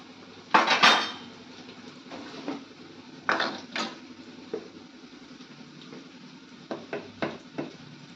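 Fried ivy gourd with curry leaves, turmeric and ginger stirred in a pan with a metal utensil: scattered clinks and scrapes, one sharp clatter near the start, then lighter irregular knocks against the pan, close and without talk.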